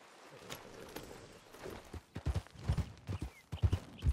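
Horse hooves clopping in Red Dead Redemption 2, starting soft and sparse and then turning into a run of louder, close, uneven thuds near the end, with no talking.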